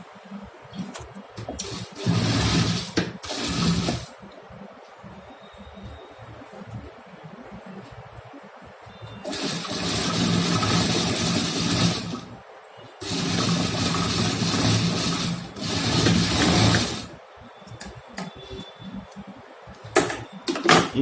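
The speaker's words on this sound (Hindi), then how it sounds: "जो इसे राउंड वाला भाग है वहाँ पे एक सिलाई लगा देना" A sewing machine stitching a homemade fabric double mask, running in several bursts of steady mechanical whirring, with quieter pauses between the runs.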